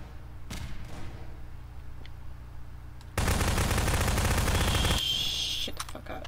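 Rapid video game gunfire in Prop Hunt: a dense, loud burst of automatic shots lasting nearly two seconds after quieter background noise, ending in a ringing tone and a few scattered shots.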